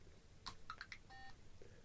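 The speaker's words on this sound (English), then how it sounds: "it's going to play a beep number 60" A LEGO Spike Prime hub emits a few short electronic beeps and tones in quick succession, faint and close, followed by a brief steady tone with no talking.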